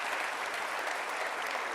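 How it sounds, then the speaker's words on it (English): A crowd claps for the construction union workers at the opening of LaGuardia Airport's new terminal. It is a dense, even wash of applause that lasts the whole stretch with no voices over it. "Let's give them a round of applause"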